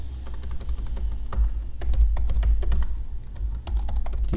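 Fingers type on a computer keyboard while entering words into a finance overview, giving rapid, close, irregular clicky keystrokes with brief pauses and no speech.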